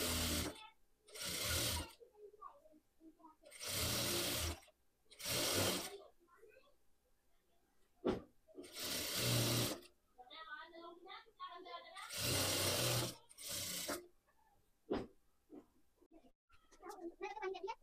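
Sewing machine stitching lace onto a party wear suit, running in several loud, steady bursts of about a second each, separated by pauses and brief quiet handling noises, with some speech heard between the bursts.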